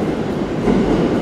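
A Tokyo Ginza Line subway train rumbles into Shibuya station, a low steady roar of wheels and motors filling the space, loud and close, with no voices.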